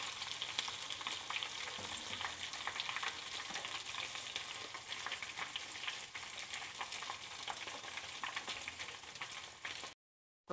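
Cauliflower pieces fry in hot oil with a steady, dense sizzling hiss close up, unbroken and fairly quiet, before the sound cuts off abruptly near the end.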